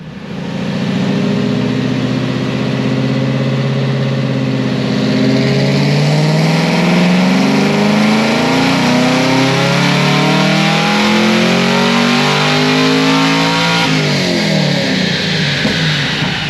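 Supercharged fifth-generation Camaro ZL1 with a cam and pulley making a full dyno pull, its engine roaring loud and close as the pitch climbs steadily through the revs before briefly backing off near the end.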